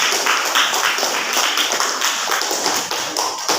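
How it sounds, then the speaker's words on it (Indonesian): Classroom applause from Indonesian teacher-training students during a history lesson at IAIN Sultan Amai Gorontalo: steady, close, dense clapping with sharp taps throughout, no talk. "tepuk tangan dulu."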